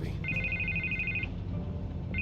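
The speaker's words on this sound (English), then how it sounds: "I can't get the phone to stop ringing." A telephone rings insistently in the Batman: The Telltale Series video game, a steady electronic trill that sounds alone for about a second, stops, then starts again near the end over a low background hum.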